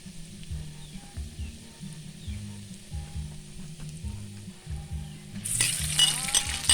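Garlic toasting in a pan sizzles steadily alongside meatloaf, a soft continuous frying hiss with rhythmic low scraping and stirring, growing brighter and louder near the end.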